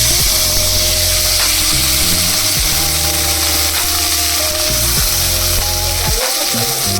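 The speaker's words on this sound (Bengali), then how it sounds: "এবার খুব সামান্য সর্ষের তেল আমি গরম করে নিচ্ছি ফার্স্টে, তারপর এগুলো ভেজে নেব।" Crushed ginger frying in a little hot mustard oil, a steady loud sizzle throughout with occasional scraping and clinking of a utensil in the pan.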